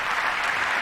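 Congress members applaud during a speech on Iran's nuclear program, with dense, steady clapping from a large room that fills the whole moment.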